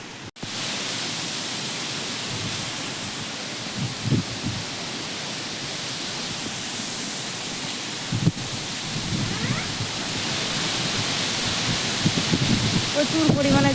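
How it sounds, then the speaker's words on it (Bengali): Heavy rain pours steadily during a storm, a dense continuous roar with a few low rumbling thuds rising from it throughout. "এখন বৃষ্টিও হচ্ছে, ঝড়ও হচ্ছে।"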